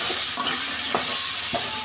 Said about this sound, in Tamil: தோசைக்கல் காஞ்சி சுட்டு போய் போட்டு வதக்குவோம்.